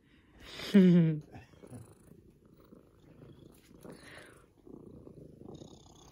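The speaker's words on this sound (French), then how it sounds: "vous voyez que ça ronronne" A cat purrs softly up close in a low, continuous rumble. A brief louder vocal sound comes near the start, and a person talks gently over it.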